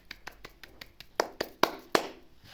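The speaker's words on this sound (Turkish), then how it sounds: "Şöyle bir alkış" A small group claps in a short, uneven burst of separate hand claps, about eight or nine of them, with the last few louder and sharper, heard nearby and without any talking.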